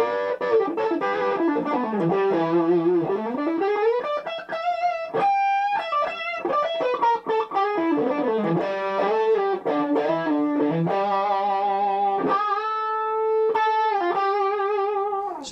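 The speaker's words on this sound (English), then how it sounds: "Add distortion, all of a sudden it gets." Electric guitar, a 2012 PRS DGT Standard, played through distortion with sustained bending notes and fast melodic runs, loud and close, ringing alone without any voices.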